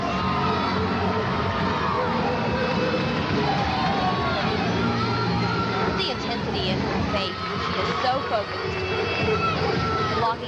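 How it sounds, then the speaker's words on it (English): Arena crowd roaring at a college gymnastics championship meet, a loud continuous roar of cheering and shouting voices filling the space, with a commentator talking over it. "Crowd is roaring."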